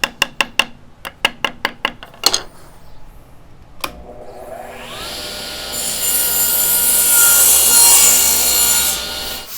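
A series of sharp wooden knocks and taps, then a power saw blade spins up and cuts through wood for a desk name plate, a loud hissing, rasping whine sustained for several seconds before trailing off.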